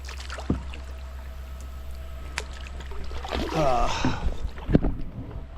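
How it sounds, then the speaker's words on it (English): A paddle dips and pulls through water as a small boat moves among concrete rubble and debris, with soft splashes and gurgles over a steady low rumble of wind, close to the microphone. "Sorry, I'm having to paddle."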